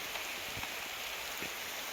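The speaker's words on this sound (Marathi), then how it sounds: "मला वरून पाऊस लागायला लागला" Rain falling outdoors, a steady dense hiss of drops filling the background, continuous and fairly even with faint thuds of drops landing nearby.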